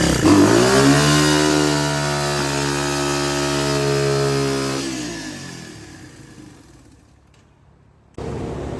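Yamaha Raptor 350 clone ATV fitted with a restrictive new air filter, its engine running loud and steady with a harsh buzzing drone, then fading and dropping away before a sudden burst of noise returns near the end.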